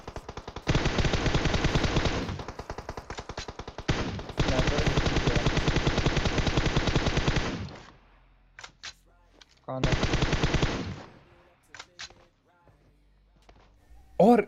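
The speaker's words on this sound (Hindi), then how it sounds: "फिर भी गोली चलाए जा रहे हैं गाड़ी पे" Long bursts of rapid automatic gunfire at a vehicle in PUBG Mobile, three sustained volleys separated by pauses, with a few scattered single shots near the end.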